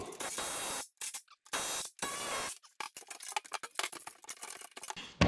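A Milwaukee 3/8-inch cordless ratchet removes bolts during car exhaust work, with several loud, close whirring bursts separated by short pauses, then a run of rapid clicks and rattles.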